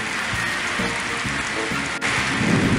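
Steady rain pours down with low rumbles of thunder rolling underneath, a continuous stormy wash of sound with no voices.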